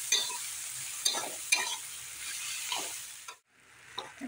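A fried egg and fried potatoes being stirred with spices in a hot frying pan: repeated scraping stir strokes, several sharp clacks of the utensil against the pan, over a continuous close sizzle, with a short pause near the end.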